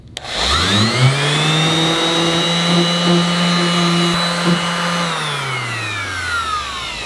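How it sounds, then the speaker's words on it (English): An orbital sander smooths and rounds a tip overlay on a bow, a loud steady electric whine that spins up, holds for several seconds, then winds down, with no talking. "Next, I use the orbital sander to get it just more round, more smooth, and take off a little more material."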